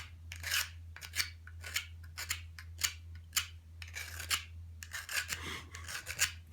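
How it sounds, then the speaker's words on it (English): Knife blade being drawn through a handheld sharpener in a quick series of rasping, scraping strokes, close and fairly crisp, with short gaps between pulls over a low steady hum. "We're going to take the sharpener."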